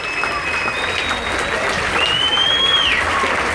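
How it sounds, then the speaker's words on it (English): Audience applause for a comedian at a stand-up comedy show, a steady burst of clapping from a crowd that swells slightly toward the end, with a few whoops rising above it. "let's hear for Lisa"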